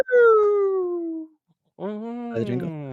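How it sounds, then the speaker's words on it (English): A dog heard through a wall gives two drawn-out, falling howling whines separated by a short pause, moderately loud and slightly muffled, with no talking. "Just heard my dog bark through the wall"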